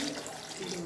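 Water poured for mint lime juice in a home kitchen, a steady close splashing trickle running through the whole brief moment without any talk.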